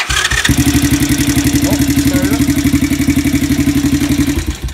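A Chinese ATV engine cranks and catches after a starter repair, then settles into a loud, steady, close-up rumbling idle with a throbbing beat.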